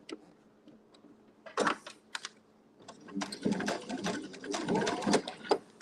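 A sewing machine does free-motion quilting, stitching small crochet doilies onto a floral quilt block, with quiet bursts of rapid needle chatter that start and stop, growing steadier toward the end.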